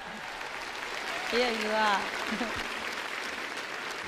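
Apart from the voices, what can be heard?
audience applause for the star of the evening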